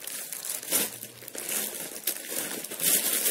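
Plastic packaging of a slimming corset being opened, continuous close crinkling and rustling with a few sharper tearing crackles, no voices.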